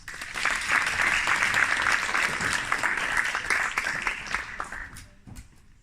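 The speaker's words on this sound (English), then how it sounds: "So give him a round of applause." A workshop audience applauds a speaker, steady clapping from many hands that holds for several seconds and then thins out toward the end.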